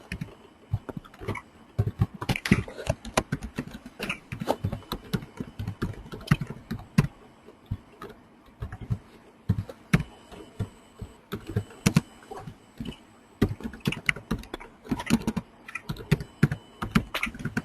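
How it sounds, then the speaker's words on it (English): Java code being typed on a computer keyboard, a fairly quiet, uneven run of close key clicks in bursts and pauses, with no talking. "So here I'm going to write a simple test class and I'm going to write a simple method."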